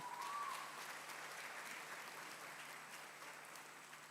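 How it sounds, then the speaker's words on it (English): An audience at a BMS degree convocation claps steadily for a student, a dense, even wash of applause that carries on throughout and fades slightly toward the end. "So we can give another big round of applause to her."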